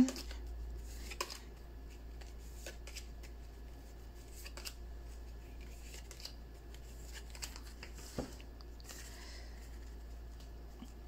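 Tarot cards are shuffled and drawn, giving faint, sparse papery snaps and soft slides close by in a quiet room, with a sharper card flick near the end.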